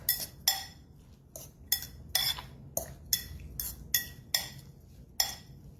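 Chopped red pepper being mixed into a quiche filling, with about a dozen sharp clinks and scrapes of a utensil against a bowl coming in an uneven rhythm, close and fairly quiet, with no talking.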